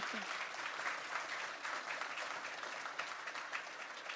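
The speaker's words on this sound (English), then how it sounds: "Give them a round of applause" An audience applauds a discussion panel at the close of a noon-hour talk on diverse juries, a steady, fairly faint wash of many hands clapping on its own for about four seconds.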